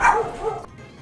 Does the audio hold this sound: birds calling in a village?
no